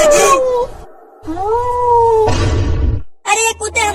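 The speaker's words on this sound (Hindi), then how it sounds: "अब ये बिल्ली क्यों चिल्लाने लगी?" Cartoon cat yowls in long wailing, rising-and-falling cries, loud and close, with bursts of other cartoon sound around them and a voice speaking near the end.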